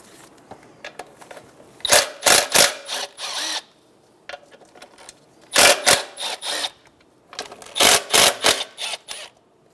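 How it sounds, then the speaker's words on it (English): A 10mm socket wrench backs out valve cover bolts on a 2003-2008 Honda Pilot, in three bursts of rapid metallic ratchet clicks separated by quiet pauses, close and loud with no speech. "Using a 10mm socket, we're going to go around and remove all of the bolts off of this top cover"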